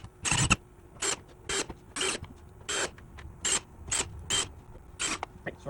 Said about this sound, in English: So I'm going to go ahead and put the rest of the screws in.